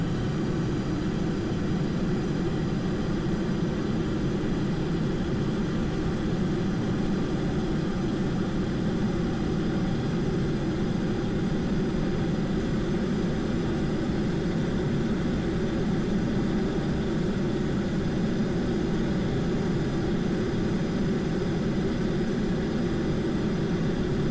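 SSTO spaceplane jet engines roaring at takeoff from the runway in Kerbal Space Program, a steady loud broadband rumble held for the whole stretch without change, no voices.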